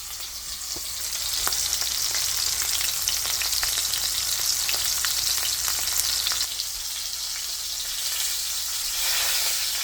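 Pickled chicken fries in hot oil with a dense, continuous crackling sizzle and scattered sharp pops, close and steady throughout, with no voices.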